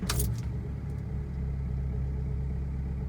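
A Volkswagen TDI diesel engine fires up after a starter replacement, with a short cranking burst at the start and then a steady low idle rumble, close and without speech.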